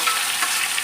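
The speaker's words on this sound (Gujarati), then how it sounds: "એમાં ટમેટા મરચાં અને લીમડાના પાન એડ કરવાના છે" Tomatoes, chillies and curry leaves hit hot oil already crackling with cumin, a loud, dense hiss of sizzling filling a short, close burst.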